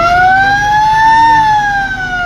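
A loud, steady ferry siren wail with a slowly rising and falling pitch, continuous and close, with no talking, as the ferry is about to depart.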